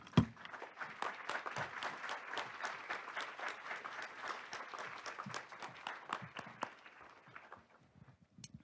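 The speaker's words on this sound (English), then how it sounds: "so we can give them a round of applause." An audience at a youth-led university peace symposium applauds the students who planned the event, with dense steady clapping that fills the room for several seconds before thinning out and fading near the end.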